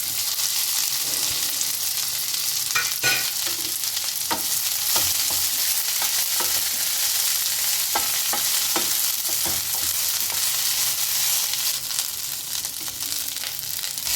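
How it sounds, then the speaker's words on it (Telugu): Drumstick leaves, crushed free of lumps, frying in a pan with curry leaves, a loud continuous close sizzle with frequent clicks and scrapes of stirring throughout. "బాగా నలిపేసి ఉండలు లేకుండా మునగాకు వేసుకుంటున్నాను"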